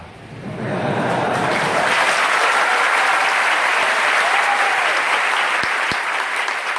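A large audience at an Isra Mi'raj commemoration at an Islamic boarding school in Tegalrejo, Magelang breaks into loud, sustained applause, a dense wash of clapping that swells quickly and holds steady throughout.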